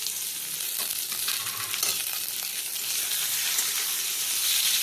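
Chopped tomato and green chilli sizzling and frying in a pan as they are stirred, a steady bright hiss with soft scraping under it and no talking.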